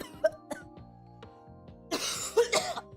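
A person coughs several times, with sharp, separate bursts early on and then a harsher, rougher run of coughing near the end, close to the microphone.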